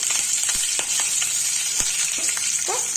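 Mustard seeds in hot oil crackle and sputter as curry leaves are added, a loud, dense close-up frying hiss dotted with sharp pops and a few stirring scrapes, with no talk.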